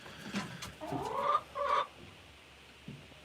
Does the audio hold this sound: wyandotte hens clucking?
yes